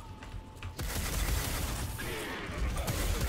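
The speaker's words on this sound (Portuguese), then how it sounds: "Essa arma aqui ela dá menos tiros do que a outra." Gunfire from a weapon in the roguelike action game Fury Unleashed, a dense, continuous burst of rapid shots and impacts that fills the clip at steady loudness.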